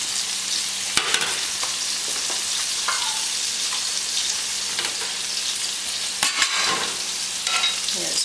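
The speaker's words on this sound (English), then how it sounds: "I like to warm up my tortillas right here" Tortillas warming in a hot pan, a soft continuous sizzle with light scrapes and a couple of sharper clatters as they are handled, no talking.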